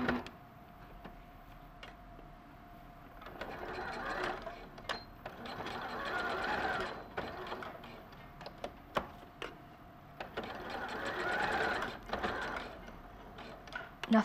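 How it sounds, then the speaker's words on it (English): A sewing machine topstitches blouse fabric close to the edge, running in several bursts of rapid mechanical stitching separated by brief pauses and clicks. The sound is close and moderately loud, and there is no talking. "I'm going to stitch quite close to the edge."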